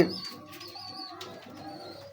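Big-breed pure pigeons coo softly and repeatedly close by, a low throaty murmuring that continues through the short stretch with faint higher chirps.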